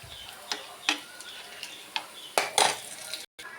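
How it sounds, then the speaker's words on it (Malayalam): Pickle mixture being stirred in a pot, with a spoon scraping and tapping the metal in scattered light clinks and scrapes, fairly close and quiet, with no talking. "നന്നായിട്ട് ഇളക്കി കൊടുക്കുക"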